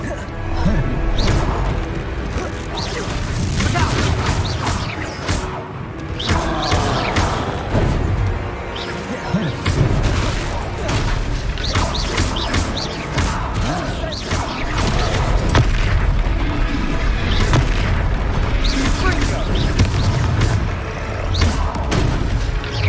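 Confringo fire-blast spells explode in the Hogwarts Legacy video game, heavy booming blasts and crashing impacts layered densely throughout a loud combat soundtrack, with character voices calling out over the fighting.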